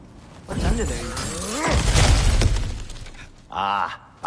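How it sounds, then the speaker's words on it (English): Cracked ground smashes apart in God of War Ragnarok, a loud, close shattering crash with rumbling debris that overlaps a voice, then fades as another voice speaks briefly. "Ah, back to smashing through things for fun and profit."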